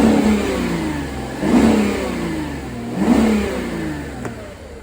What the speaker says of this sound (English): the first thing I'm going to do is warm the engine up